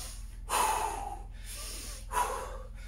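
Heavy breaths during a home kettlebell workout come as two loud, close exhales with a snort-like rush, spaced about one and a half seconds apart.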